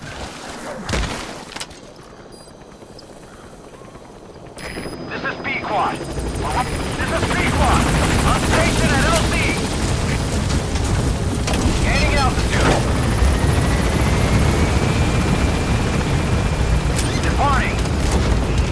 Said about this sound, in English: Police support helicopter requested